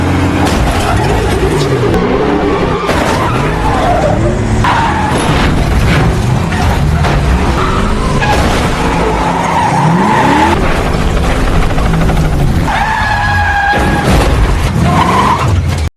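A movie car chase with police unfolds loud and dense: engines rev and roar, tires skid and squeal in long screeching streaks, and crashes and booms punctuate the continuous action noise.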